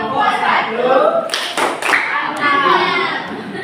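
Students in a classroom clapping for the first presenting group at a teacher-training session, a close, busy patter of many hands with sharper claps and a few voices mixed in.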